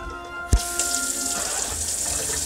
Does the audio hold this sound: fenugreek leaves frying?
no